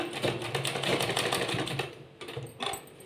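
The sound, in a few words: sewing machine top stitching fabric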